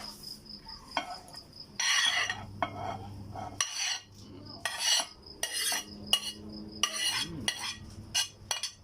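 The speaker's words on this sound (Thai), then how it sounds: "ผมเดี๋ยวลวนเนื้อลวนเครื่องในให้สุกก่อนครับ" Beef and offal are stirred and seared in a pan for laab, with a utensil scraping and clattering against the metal in irregular bursts over a faint sizzle, close and fairly quiet.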